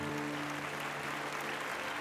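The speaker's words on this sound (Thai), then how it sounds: "ท่ามกลางเสียงปรบมือที่ดังกึกก้องค่ะ" Audience applause at a televised Thai entertainment award ceremony, a steady dense wash of clapping throughout, with a faint low musical tone running underneath.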